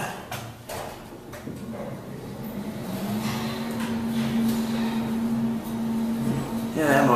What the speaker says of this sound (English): Yeah, that motor sounds real healthy.